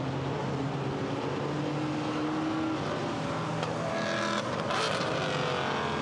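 GT4 race cars cross the line at Misano, engines droning loud and steady with layered tones as they pass, a rising whine near the end.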